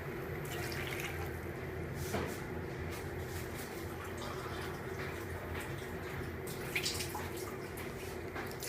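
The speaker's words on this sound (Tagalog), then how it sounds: "Lagyan ko na ho yung tubig." Water poured into a pot for goat caldereta in a Filipino kitchen, a continuous soft splashing and trickle heard close up over a strong cooking flame.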